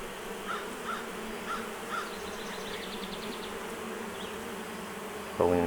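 Honeybees buzz during a week-five beehive inspection, a steady insect drone running throughout with occasional louder buzzes passing close, plus a brief knock near the end.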